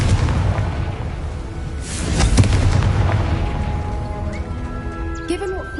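A deep, booming blast from the Confringo spell in a Harry Potter-style video game rolls out and fades. Game sounds follow and a voice talks over it.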